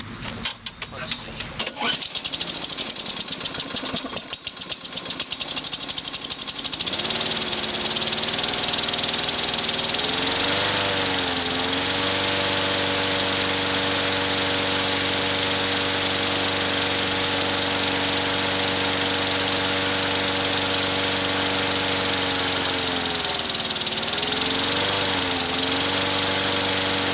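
Home-built propane-powered lawn mower engine cranks with rattling, catches, and settles into a loud, steady idle with slight wavering pitch; a voice talks over the start.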